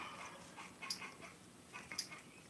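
A dog whimpers softly a couple of times, faint high whines over a quiet background.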